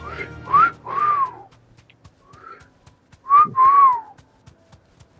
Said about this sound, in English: That's about as good of a whistle as I can get.